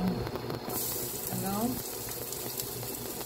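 Garlic sautéing in a pan for a ground beef and pork dish in tomato sauce, a steady moderate sizzle and frying hiss running throughout, with brief faint kitchen clatter near the start.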